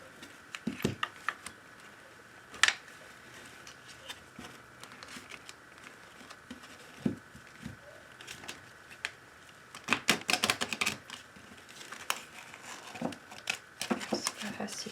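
Oracle cards being shuffled by hand in bursts of soft flicking and riffling, close and quiet, with scattered taps against a low background hiss and some brief talk.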